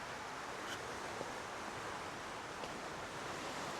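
Steady, wide surf of sea waves along the gulf shore at Banay-Banay, Davao Oriental, washing continuously and evenly with no voices, heard from a nearby vantage point.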